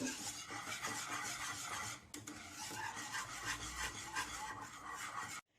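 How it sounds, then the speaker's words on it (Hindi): A spoon stirs banana custard mixture in a bowl, producing continuous close rubbing and scraping strokes with a brief clink midway, then stopping abruptly. "इस तरह अच्छे से मिक्स करते जाइए।"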